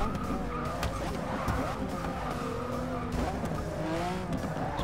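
A race car brakes hard and skids on a wet Hockenheimring circuit in a racing video game, tires squealing in wavering tones over a steady engine drone, with other cars audible throughout.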